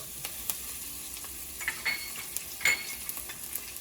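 Spices and dal with turmeric, asafoetida, curry leaves, green chilies, crushed garlic and ginger are stirred in a pan. The result is a quiet background sizzle with a few light scrapes and taps of a spoon, close and without talk.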